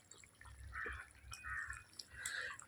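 Coconut milk pours into an egg curry cooking in a village setting, a soft, close gurgling and trickling of liquid that rises and falls in low, steady waves with no speech over it.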